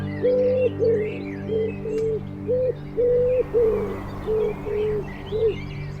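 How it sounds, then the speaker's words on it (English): A wood pigeon cooing in a former industrial area in Germany, a steady run of about nine soft hooting phrases, loud and close, with faint higher birdsong behind it. "The wood pigeon is now a common bird in the region, and the perfect size."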